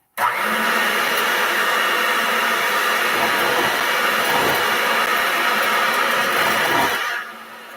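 An electric mixer beats butter mixture into cowboy cookie dough, running as a loud, steady whirring drone close by for about seven seconds before cutting down sharply, with no talk.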